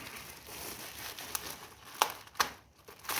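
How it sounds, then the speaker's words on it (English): A plastic bag is pulled off a boxed East India Company Stirling engine fan, giving soft crinkling and rustling with a few sharper crackles near the end, close and fairly quiet. "Plastic bag off here without dropping this stuff."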